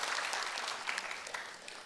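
Audience applauding new Patanjali distributors at a gathering in Patna, Bihar: a steady, dense wash of many hands clapping throughout, fairly even in loudness with no voices on top.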